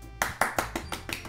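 Six sharp claps of applause in the video game Doki Doki Literature Club ring out at an even, slightly slowing pace, each with a short echoing tail.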